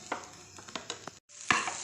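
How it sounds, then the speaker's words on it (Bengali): Pea filling for kachori being stirred in a pan, a few quick scraping and tapping strokes of a spoon over a faint sizzle, close, with a brief silent gap before one louder scrape. "তো আমার এই পুরটাকে আর একটু নাড়াচাড়া করে নামিয়ে নেব।"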